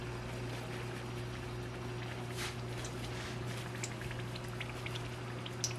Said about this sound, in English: Yeah, it's sizzling.